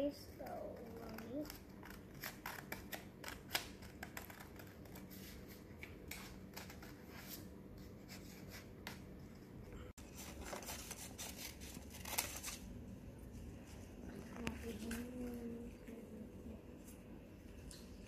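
Scissors snip paper for a Father's Day craft, with a series of quiet close cuts and rustles spread through the stretch amid soft handling noises, while a low voice talks in the background.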